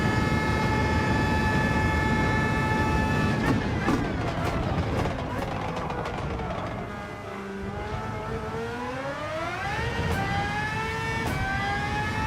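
A race car engine in Gran Turismo 7 revving hard under throttle, a loud continuous whine that drops and then climbs again through the gears, with a voice talking over it.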